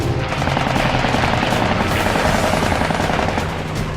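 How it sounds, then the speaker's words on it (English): Heavy, continuous .50 caliber machine gun fire from a WWII fighter plane in a dogfight over Guadalcanal, a dense rattling burst blended with roaring engine noise, loud and close throughout. "He stays right with him, raking the enemy with his 50 cals."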